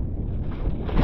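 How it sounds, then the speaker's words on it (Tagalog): Strong wind buffets a small fishing boat at sea off Palawan during the northeast monsoon, a steady low roar with gusty rumbling across the microphone. "Ay lumakas na rin pati yung hangin."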